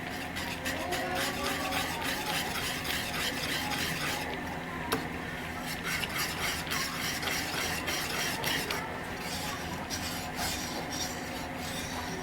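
Mango jam mixture with food colouring is beaten steadily in a pot, a continuous close scraping and stirring rasp with light metallic clinks, running without pause and without talk.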